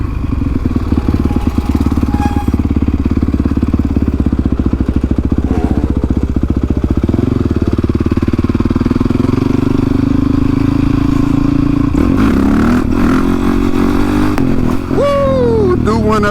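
A Honda CRF 450X converted to a supermoto runs loud and close throughout, holding a steady, rough engine drone with small revving swells near the end.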